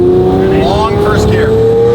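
A manual Lamborghini Murcielago engine revs loudly and close up, its pitch climbing steadily through a long first gear in one sustained roar.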